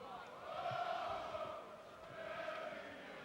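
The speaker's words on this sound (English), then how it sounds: "Local crowd cheering their local man, Regilio Tuur." Local crowd in the RAI Indoor Stadium, Amsterdam, cheering for a home boxer after a WBO junior lightweight title bout, a sustained roar of voices swelling and dipping in two waves.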